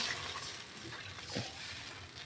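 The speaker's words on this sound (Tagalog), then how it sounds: "Lagyan natin ng 2 cup na tubig." Two cups of water poured into a cooking pot over sautéed food with oyster sauce, a steady close splashing wash with a brief louder gush midway, no voices.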